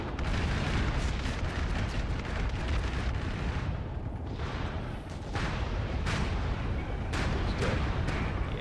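Friendly bombers drop their payload in the MAG war game, setting off a continuous barrage of heavy explosions, deep rumbling booms and scattered blasts that roll on steadily throughout.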